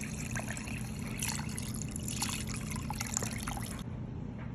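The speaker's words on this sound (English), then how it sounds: "Now I'm gonna pour the brine into the quail." Salt brine mixed with herbs trickles and splashes steadily over raw quail in a container, a continuous close liquid pour lasting several seconds before it cuts off near the end.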